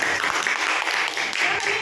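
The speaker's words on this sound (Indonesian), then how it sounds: "Beri tepuk tangan dulu" Students applaud in a classroom during an art lesson, a continuous burst of many hands clapping with voices chattering underneath.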